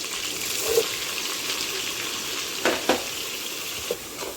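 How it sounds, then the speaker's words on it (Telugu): Onion paste frying in oil with cumin, mustard seeds and green chillies for chole masala, a soft steady sizzle with a few louder spatula scrapes and clatters, close and alone. "ఈ ఆనియన్ పేస్ట్ అనేది లైట్ బ్రౌన్ కలర్ వచ్చే వరకు ఫ్రై అవ్వాలండి"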